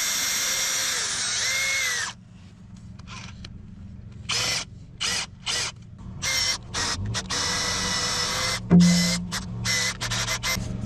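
A power drill whines steadily, cuts out, then runs in short on-off bursts with a brief clunk near the end; close and loud, no talking.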